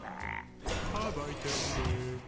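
Frog croaks in a video game after a transformation spell, a few short croaking bursts at moderate level amid other game sounds, with no speech.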